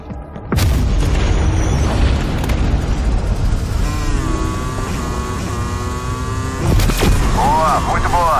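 Missile strike explosion in Call of Duty Black Ops Cold War, a sudden loud boom followed by sustained rumbling and ringing, with a second sharp blast near the end and game voices mixed in.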